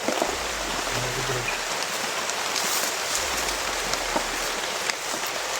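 Heavy rain pours down steadily, a dense, loud hiss of drops on surfaces that continues without a break.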